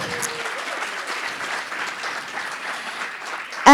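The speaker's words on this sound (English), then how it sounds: "So let me applaud her." An audience at an AI summit applauds a newly honored social sciences professor, a dense, even spread of clapping that holds steady throughout, ending in a sudden loud bump at the very end.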